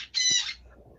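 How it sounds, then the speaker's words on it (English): Pet birds give a single loud, harsh squawk up close, followed by quieter room noise. "birds are out or they're screaming for attention today"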